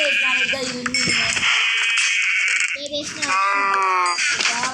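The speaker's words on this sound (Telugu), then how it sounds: "ఈ షీప్లు ఉన్నాయి కదా చంపేద్దానికి" Sheep in the video game Minecraft bleat in a few drawn-out, wavering calls over game sounds, while a person talks throughout.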